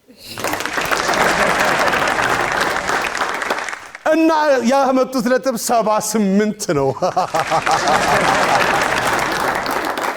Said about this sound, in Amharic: አጨብጭቡ እንጂ